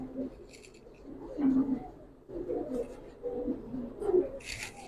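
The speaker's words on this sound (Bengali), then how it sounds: "এটা একটা মাদি কবুতর" A female pigeon coos in repeated soft, throaty phrases close by, quiet and unhurried, with faint rustling between calls.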